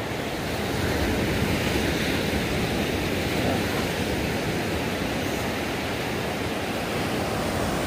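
Ocean surf washing steadily onto the shore of Sugar Beach in Sipalay, a continuous broadband roar of waves with no talking, close and fairly loud throughout.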